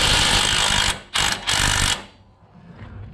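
An impact wrench rattles on a bolt at a Nissan Titan front hub during a bearing job, two loud bursts of hammering whir with a short pause between, then the shop quiets to a low background hum.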